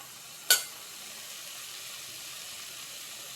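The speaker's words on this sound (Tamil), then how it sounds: "இந்த தேங்காயையும் போட்டு அதிலே வதக்கிக்கலாம்." Mint and coconut sautéing in a hot pan, a sharp brief burst of sizzle as they go in, then a soft steady hiss that fades into quiet.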